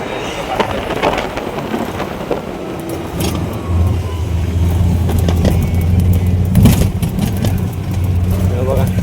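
An auto rickshaw engine drones steadily during a ride, a low rumbling hum with road noise, under people talking throughout.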